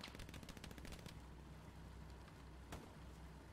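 Rapid video game gunfire follows a thrown grenade in an online shooter match, a dense burst of shots over the first second, then steady battle noise with one more sharp report near the end.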